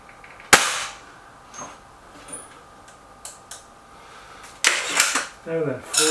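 Hatsan 900x Breaker air rifle fired at a centre target: one sharp, loud crack near the start, followed by a few faint clicks and handling noises, then a cluster of louder knocks and rattles toward the end.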